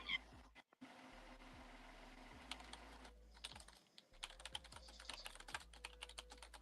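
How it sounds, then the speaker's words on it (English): Keyboard typing clicks out in quick irregular bursts with short pauses, fairly faint and close, with no talking. "Then we hear the typing afterwards."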